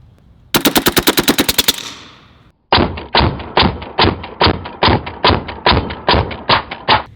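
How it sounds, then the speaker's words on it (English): A Western Sidewinder S .30 caliber airgun fires full-auto bursts, first a fast string of about a dozen sharp cracks, then after a brief gap a longer run of loud, evenly spaced thumping shots, close and alone. "Always looks pretty cool when you dump a full auto mag into this."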